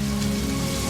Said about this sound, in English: I wish the rain would stop just once. Can't rain all the time.